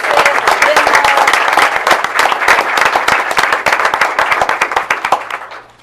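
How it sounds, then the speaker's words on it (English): Loud, close applause from an audience at a school board of education meeting, with dense, sharp clapping continuing for several seconds and thinning toward the end. "how about a big round of applause for your parents"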